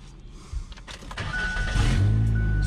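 Car engine starting with a new starter: a brief cranking whir that catches quickly and rises into a steady, loud running idle with a low hum building toward the end.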